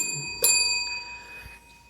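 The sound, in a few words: bell ringing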